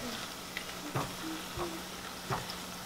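Quiet, steady sizzling of chiles frying in hot oil for salsa macha, with a few soft clinks and stirring sounds now and then.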